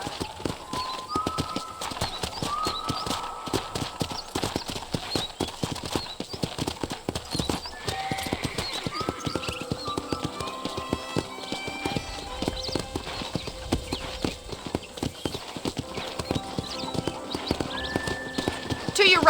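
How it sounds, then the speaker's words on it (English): Horse hooves clip-clop steadily in Red Dead Redemption as a horse is ridden toward a ranch, a continuous rhythmic trot with an occasional whinny, under game music and a talking voice. "let's see if you can still ride a horse"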